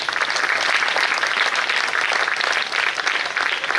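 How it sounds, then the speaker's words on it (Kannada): A crowd at a speech gathering applauds on request, producing steady, dense clapping that holds at full strength for nearly four seconds without talk over it. "ಬೇರೆ ಊರರ ಪಾಪ ಚಪ್ಪಾಳೆ ಹೊಡಿರ್ಲ ಅವ್ರಿಗೆ"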